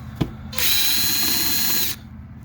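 Power drill backing out screws, one loud steady whir lasting just over a second after a brief click, close up and with no talking.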